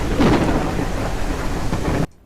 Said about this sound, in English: We've got thunderstorms and lightning to start our day to finish off our barn.